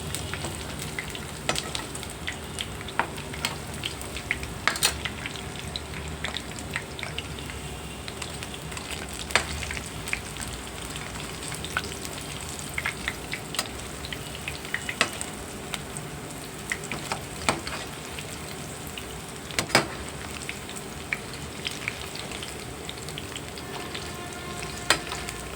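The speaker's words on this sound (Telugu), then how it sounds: "ఒక 5 నిమిషాలు బాగా వేగించాలి. సిమ్లో పెట్టి బాగా వేయించుకోవాలండి." Cauliflower 65 frying in a pan of oil over low heat, a steady, continuous sizzle with scattered pops and crackles throughout, close by and with no voices over it.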